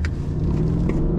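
A Mercedes E-Class sedan's V8 gives a brief, loud, low rumble under throttle, heard close and steady with no talk.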